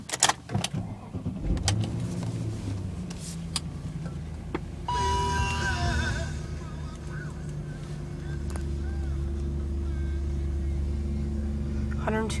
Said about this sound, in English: we'll just start it up so you can hear that engine.